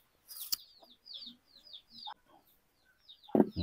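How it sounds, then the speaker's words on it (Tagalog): Chickens cluck close by outdoors in a series of short, soft clucks, with a louder clattering or handling noise briefly at the start and again near the end. "Ang daming manok kakabsat."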